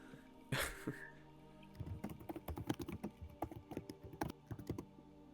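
Fingers clatter on a computer keyboard during an online tabletop role-playing session. A throat clearing comes first, then rapid, uneven bursts of close key clicks run steadily to the end with no talking.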